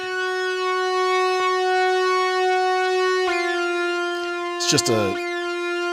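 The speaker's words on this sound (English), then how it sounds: "It's going through a synthesizer called Oddity," A loud, steady electronic tone from an Oddity synthesizer with rich harmonics holds for several seconds, then shifts brightness, with a brief swooping, warbling burst near the end.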